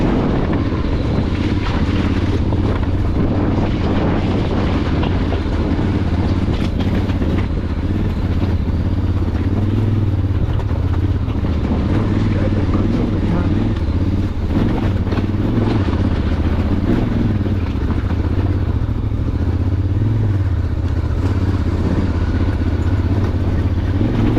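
A Voge DS625X motorcycle labouring up a muddy hill, its engine a steady droning roar throughout, mixed with heavy wind buffeting on the microphone.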